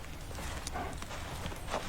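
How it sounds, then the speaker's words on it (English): A horse's hooves clip-clop at a walking pace, several soft irregular strikes over a low background rumble, fairly close and with no talk. "That's a nice horse."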